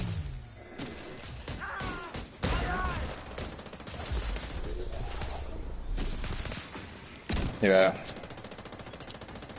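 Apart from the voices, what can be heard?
turret gunfire in a video game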